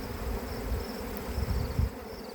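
A honeybee swarm buzzes around beehives outdoors, a dense steady hum of many bees with a few louder passes close by, with no talk.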